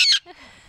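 A pet bird outdoors in the wind gives one loud, harsh squawk close by, followed by a brief fainter rustle.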